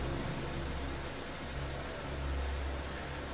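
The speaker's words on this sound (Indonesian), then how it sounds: "tiba-tiba hujan pun datang dengan derasnya." Heavy evening rain pours steadily in a dense, even hiss with a low rumbling undertone, loud and unbroken throughout, with no voices.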